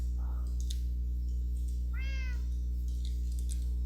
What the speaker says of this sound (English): There's our cat again.